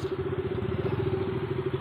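Motorcycle engines running steadily up close as three bikes travel along a road, a continuous low mid-pitched drone with slight rough pulsing throughout.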